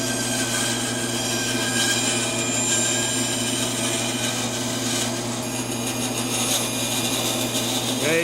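A bandsaw slowly cutting through wood, giving a steady continuous whine and rasp at even loudness throughout, close by with no talking.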